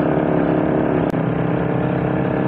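A Suzuki Satria FU motorcycle with a new standard piston and porting pulls hard in third gear up a steep hill, its loud, steady engine note held close throughout with one brief dip partway through.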